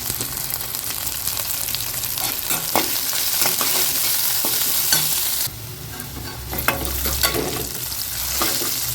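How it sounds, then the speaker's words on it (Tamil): Onions with salt and curry leaves sauté in a pan for a cauliflower kurma, giving a steady close sizzle broken by repeated scraping stirs, with the frying loudening briefly after more is added midway. "வெங்காயம் ஓரளவுக்கு வதங்கிடுச்சுங்க."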